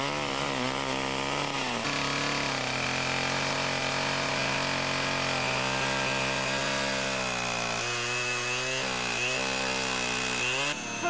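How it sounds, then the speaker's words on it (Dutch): Chainsaw cutting outdoors in the woods, a loud, continuous close-up engine whine that rises and falls in pitch as the saw bogs under load and revs back up. "Maar hier in de vrije natuur kan je lekker zagen."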